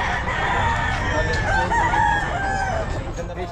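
A white kelso rooster crows amid the busy murmur of a crowded pet market in Bocaue, its calls carrying over background chatter and other fowl.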